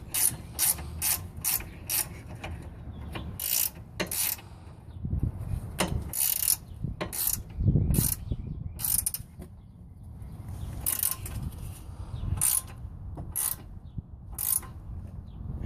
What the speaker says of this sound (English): So now I'm tightening up the castle nut.